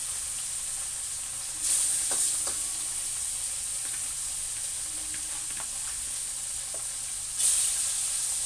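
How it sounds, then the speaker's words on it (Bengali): Pieces of fish fry in oil in a pan with a soft, steady sizzle, a few small crackles and pops, and two brief louder hissing surges. "4টে পেটির মাছ আগে ভেজে নেব সুন্দর করে"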